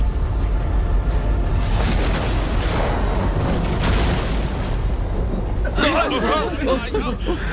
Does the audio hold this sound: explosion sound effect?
yes